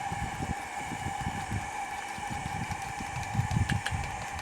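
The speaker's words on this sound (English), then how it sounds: "I'm going to start whipping our egg yolks with the sugar" Electric hand mixer whipping egg yolks with sugar in a boat yard kitchen, a steady motor whine with a broad low rumble and uneven churning pulses, close and continuous.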